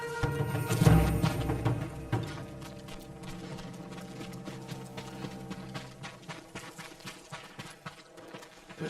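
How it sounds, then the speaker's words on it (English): Horses clip-clopping in the video game Ghost of Tsushima, a thud near the start followed by steady, moderately loud hoofbeats in an even walking rhythm over a low ambient game soundtrack. "Let's get to the horses."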